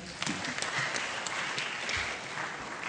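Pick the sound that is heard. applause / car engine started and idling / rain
applause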